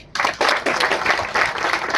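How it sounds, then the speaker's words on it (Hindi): Audience applause at a company's annual dealer meet in Srinagar, a dense burst of clapping that starts sharply after a brief quiet moment and stays loud and steady. "पहले तो इस नाम के लिए तालियां"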